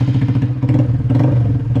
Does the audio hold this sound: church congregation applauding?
no